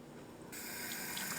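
A metal piece is rinsed under a running tap, with a quiet background hum giving way to a steady splashing flow of water that carries on to the end.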